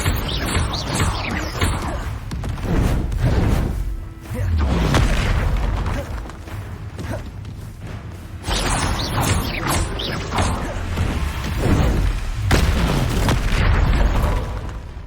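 Bombarda blasting-spell explosions in Hogwarts Legacy: heavy, booming blasts among dense clanking, mechanical game noise, with a short lull before the loud bursts return.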